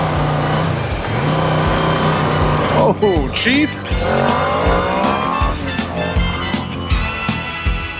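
A Honda V-Max motorcycle rides hard with V-Boost engaged, its engine a loud, close, continuous roar that climbs through the revs with shifts and surges. A rider speaks briefly over it.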